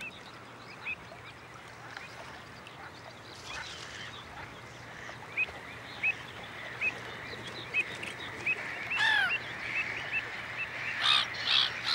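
A nesting colony of pied avocets beside black-headed gulls on the northern French coast, many birds calling at once in a dense, steady clamor of sharp piping cries, growing busier and louder toward the end.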